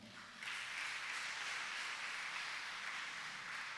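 A congregation applauds during a Lenten midday Mass, a soft, even wash of many hands clapping together that swells in and holds steady, heard from a distance in a large church.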